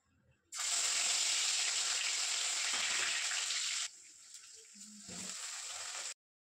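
Grated ginger sizzles loudly in hot oil, a dense steady frying hiss that drops to a quieter crackle partway through, with faint clinks near the end before stopping abruptly.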